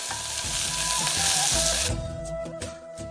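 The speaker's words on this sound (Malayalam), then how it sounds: "ഇനി ഇതിലേക്ക് അരിഞ്ഞു വെച്ചിരിക്കുന്ന സവോളയും മുളകും ആഡ് ചെയ്ത് നന്നായിട്ട് മിക്സ് ചെയ്ത് കൊടുക്കാം." Chopped onion and green chilli hit hot oil with a loud, dense sizzle that eases after a couple of seconds into softer frying and stirring clatter, close and without talk.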